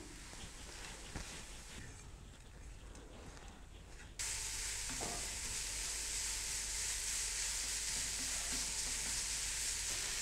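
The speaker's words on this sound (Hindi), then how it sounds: "मूली को हमने स्पाइसेस के साथ 1 मिनट तक भून लिया है।" Radish with whole cumin and spices fries in a pan, giving a continuous hiss and sizzle that suddenly grows louder and brighter partway through. It is steady and close, with no talk.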